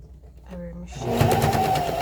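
A sewing machine stitches old jeans into a backpack, starting with a brief whir and then running as a fast, steady buzzing hum, close and fairly loud, with a voice talking over it.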